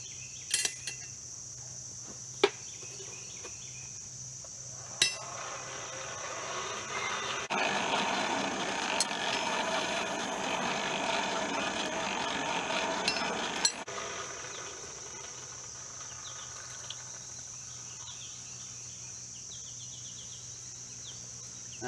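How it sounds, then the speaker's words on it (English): Air is fed into a blacksmith's forge fire, making a steady, broad rushing blast for several seconds in the middle, with a few sharp metallic clinks and a constant high background whine before and after. "as I add the air to the forge to heat it up, that fire is spreading symmetrically around my forge"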